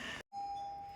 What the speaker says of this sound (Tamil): Doorbell is working.